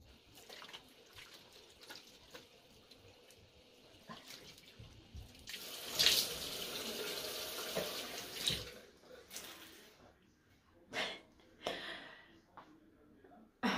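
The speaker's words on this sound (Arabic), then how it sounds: "راني غسلت وجهي" A bathroom tap running while someone washes their face, heard as a quiet intermittent trickle that swells into a steady splashing stream midway, followed by scattered splashes and drips.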